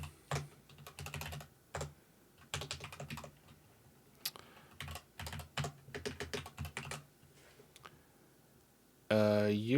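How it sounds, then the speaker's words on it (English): Bursts of rapid typing on a computer keyboard come and go in uneven clusters with short pauses between, close and fairly quiet, and a voice cuts in briefly at the very end. "I can't type today."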